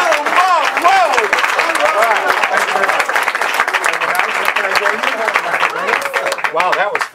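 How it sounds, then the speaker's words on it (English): Audience applause at a live magic show, loud and close, a dense crowd of clapping with cheering voices sustained throughout, while someone speaks and shouts over it. "Give Sherry a big round of applause."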